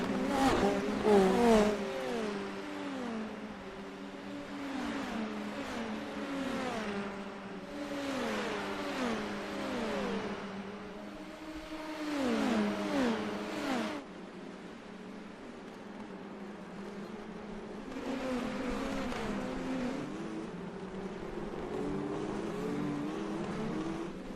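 Indy NXT open-wheel race cars in a close train circling the Long Beach street circuit, engines rising and falling through gear changes as cars stream past one after another, fairly near, with a commentator talking over the sound.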